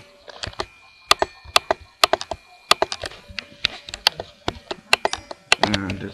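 Computer keyboard typing up close in a Minecraft Skyblock session, irregular bursts of sharp key clicks with short pauses, ending in a quick flurry.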